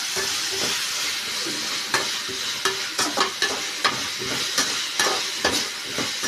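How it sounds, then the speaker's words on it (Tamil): Onion and dried-fish curry base frying with turmeric powder and salt, a loud continuous sizzle and hiss from the pan broken by repeated clanking scrapes of a ladle stirring, close up with no voices. "மஞ்சள் தூள் சால்ட்டு போட்டு வதக்கிடலாம்."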